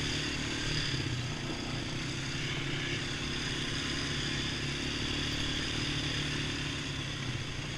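Quad engines drone steadily as a Polaris Sportsman 570 and a Kawasaki KFX 400 sport quad ride wide open trails, a continuous buzzing hum with no speech.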